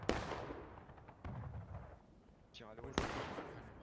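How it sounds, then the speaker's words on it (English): Musket volleys crack out in a War of Rights battle, three sharp loud reports with decaying echoes spaced across a few seconds, and a faint voice briefly heard between them. "we've got the initial shots coming in"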